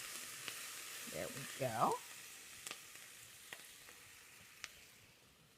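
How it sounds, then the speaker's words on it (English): Caramelized onions sizzle quietly in a pan as they are stirred, a soft, steady frying hiss with a few scraping clicks, while a person speaks briefly. "I'm going to give this one more stir."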